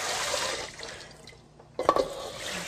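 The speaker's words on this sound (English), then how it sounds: "You can wash the excess rice." Tap water runs and splashes while rice is rinsed in a bowl before going into a rice cooker, a steady wash that thins out midway and then returns with sharper splashing.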